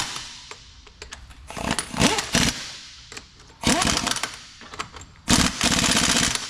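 An impact gun tightens wheel lug nuts in a star pattern, firing in several loud, rattling bursts of hammering separated by short pauses, close up and with no one talking.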